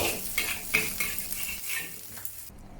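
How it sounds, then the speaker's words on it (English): Rice with XO sauce being stir-fried in a wok, giving a steady sizzle under repeated metallic scrapes and clinks of a spatula against the pan, fairly close, with no talking. "This is an important step to generate the wok aroma."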